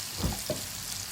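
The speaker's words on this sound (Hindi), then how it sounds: "ये मैं इसमें ऐड करूँगी 1 टीस्पून के करीब साबुत ज़ीरा" Whole cumin seeds, about a teaspoon, hit hot oil for a chicken bhindi dish, giving a brief soft sizzle with a couple of light taps from the seeds landing.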